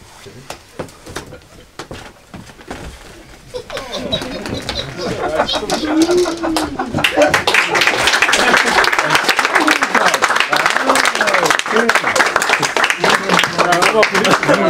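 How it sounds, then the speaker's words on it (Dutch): An audience applauds a theatre group at an open podium evening, the clapping rising from scattered claps into a loud, sustained ovation, with voices talking underneath at the start. "mag ik nog een groot applaus voor de theatergroep van de dinsdagavond"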